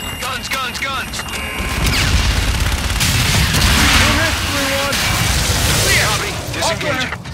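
Aircraft gun run strafing fire during the Battle of Geneva in Call of Duty Infinite Warfare: dense rolling bursts and booms sustained for several seconds, loud and close, with radio voices talking over the gunfire.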